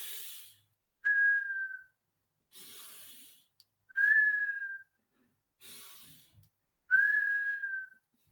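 A person whistles three times to imitate expiratory wheezing, each steady whistled tone held about a second and following a breathy inhalation, with quiet gaps between.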